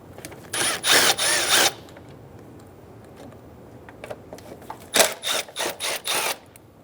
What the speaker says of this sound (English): Using an 8mm socket, remove the 4 bolts for the air box.